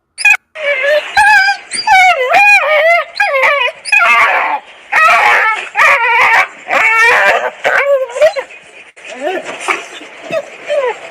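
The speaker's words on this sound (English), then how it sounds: "these are dogs being literally like sardines packed into the back of a van. They're yelping." Stray dogs packed tightly into the back of a van while being taken for impounding in Kerala, yelping, whimpering and howling continuously and loudly, many overlapping cries close by.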